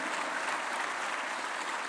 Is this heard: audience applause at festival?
yes